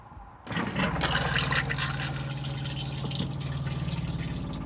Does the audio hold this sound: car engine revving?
no